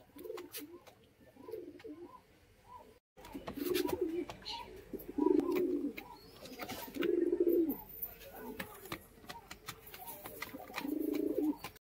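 Caged fancy pigeons, Madras and high-flying breeds, coo in soft, repeated low throaty phrases, close by, with faint chirps and background rustling between calls.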